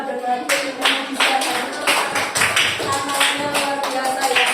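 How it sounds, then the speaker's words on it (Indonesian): A small group claps hands together during a classroom coaching session, the claps loud, close and somewhat uneven in rhythm, with musical tones ringing underneath and no talk. "Kasih tepuk tangan biar semangat"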